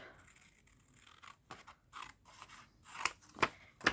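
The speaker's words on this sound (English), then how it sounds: "And what I'll do is I'll just cut this off." Scissors trim the edge of a stuffed paper bag journal in a series of close, quiet snips and rustles, the last few cuts crisper and louder, with no talking.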